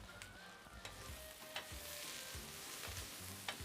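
Cabbage and onions frying together in a pan on a stove, a steady close sizzle with scattered stirring scrapes and light clicks of a utensil, no talking.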